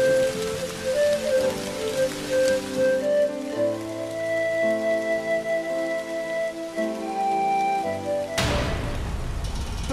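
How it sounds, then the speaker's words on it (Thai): Heavy rain falls in a steady, dense patter under soft sustained music, and a sharper burst of noise breaks in near the end. "ฝนตกหนักไหมเนี่ย"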